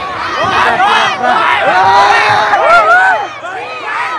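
A large crowd of college students cheers and shouts together at an HIV/AIDS awareness event in Dhangadhi, loud and continuous, with rising whoops and yells overlapping throughout.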